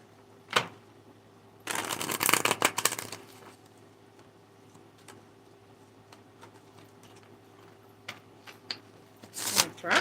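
Tarot cards riffle-shuffled in two loud bursts, one long at the start and another near the end, with scattered soft card taps and flicks between them.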